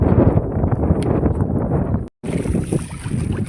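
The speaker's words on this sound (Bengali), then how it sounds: "আর হাওয়া হচ্ছে, এত ঠান্ডাও লাগছে" Strong wind buffets the microphone on a fishing boat out on a river in the Sundarbans, giving a loud, gusty roar with a brief sudden dropout midway before the blustering resumes.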